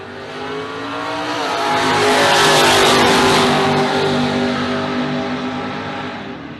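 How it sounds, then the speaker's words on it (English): Dragster engine revving at a bracket-racing drag strip, a loud, rough roar that builds over a few seconds, peaks in the middle and slowly fades, heard alone without voices. "Again, double dragsters to the lanes."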